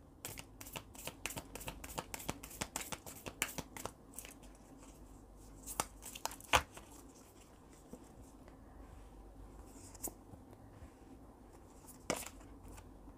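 Tarot-style fortune cards being shuffled by hand, a quick run of riffling flutters followed by sparser single card snaps, close and fairly quiet with no talking.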